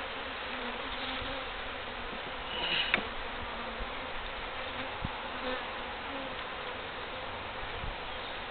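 Bees from a feral hive being cut out buzz steadily around the microphone, a close, continuous insect drone with occasional louder passes and faint clicks.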